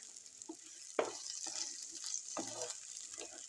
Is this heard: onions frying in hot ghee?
yes